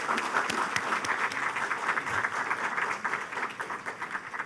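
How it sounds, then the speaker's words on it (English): Sustained audience applause after a presentation at a university anniversary forum, dense steady clapping from a large crowd throughout with no speech over it. "let us give her a big round of applause again"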